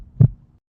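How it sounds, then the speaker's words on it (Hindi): A single heavy heartbeat thump, a deep low pulse that swells and fades quickly, used as a sound effect in a Hindi horror story, close and alone. "रामकिशोर का दिल जोर जोर से धड़कने लगा।"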